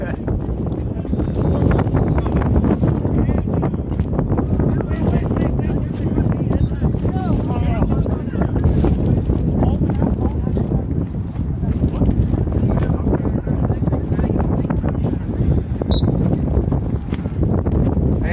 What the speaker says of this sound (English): the wind is making our lives really exciting out here